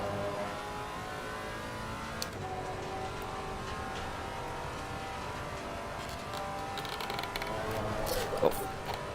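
Simulated Maserati race car engine in Assetto Corsa Competizione during a six-hour race at Watkins Glen, droning steadily with shifting revs throughout while a voice talks over it.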